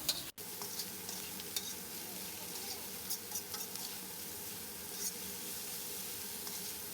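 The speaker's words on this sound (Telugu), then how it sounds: "ఇందులో ఒక 1 స్పూన్ సాల్ట్ వేసి మంచిగా కలిపి 1 నిమిషం ఫ్రై చేసుకుందాము" Vegetables stir-frying with salt in a hot pan for homemade Schezwan noodles, steady close sizzling with occasional spatula scrapes and stirring taps, no talking.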